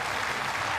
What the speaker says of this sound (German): der Applaus des Publikums ist ihr natürlich gewiss